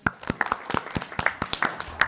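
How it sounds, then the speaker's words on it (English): A small group at a city council meeting gives a brief round of applause, scattered individual claps in an uneven rhythm, moderately close, with a little talk mixed in. "Oh, round of applause."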